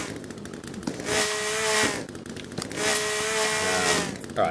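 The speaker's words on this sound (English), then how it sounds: "I can't hear you over the sound of my sawing in the building." Two long bursts of loud, buzzing saw noise, each roughly a second long, separated by brief pauses, like a chainsaw cutting through wood, in the video game The Forest.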